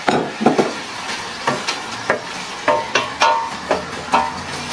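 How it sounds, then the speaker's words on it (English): Onion being stirred and fried in oil, a soft sizzle broken by a regular series of scraping, knocking stirring strokes against the pan, close and fairly loud with no talking. "We twist a few times in the onion to catch oil in the entire onion."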